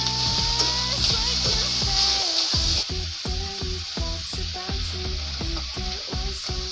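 Boiled, shredded chicken frying with onions in a home pan, giving a steady close sizzle with frequent clatters and scrapes of stirring.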